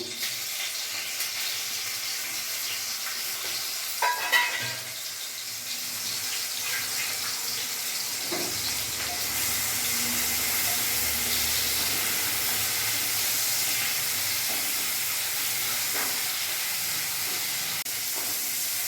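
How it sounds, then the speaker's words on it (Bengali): Shrimp frying in hot oil in a pan give a steady, fairly loud sizzling hiss that runs unbroken throughout, with a few small pops and no voices. "চিংড়ি মাছটা ভেজে নেবো ভেজে তুলে নেবো"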